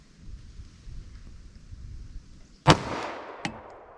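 A Glock 41 pistol fires .45 ACP rounds outdoors, one sharp loud shot that rolls off in an echo, followed moments later by a second shot, with a quiet background in between.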